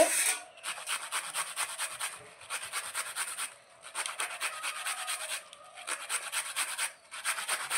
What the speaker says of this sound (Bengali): আমি সবগুলো এভাবে ঘষে নিচ্ছি মেশিন দিয়ে